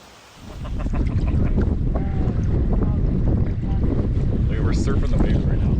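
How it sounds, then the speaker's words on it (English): A canoe rides waves on an Algonquin lake in strong wind, with loud rushing wind buffeting the microphone and water sloshing against the hull, while faint voices come through underneath. "We're surfing the waves right now."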